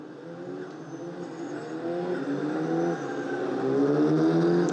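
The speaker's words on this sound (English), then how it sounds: "So there is Lucas Frassenet warming the brakes, warming the Michelin tyres as best as possible." Alpine Elf race cars at Monza circuit drone past on Michelin tyres behind the safety car, engines rising steadily in pitch and loudness as the pack builds speed.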